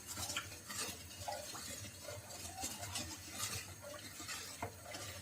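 A utensil scrapes and swirls continuously against the bottom of a metal pot of sugar syrup on high heat, a steady stirring with faint clinks throughout.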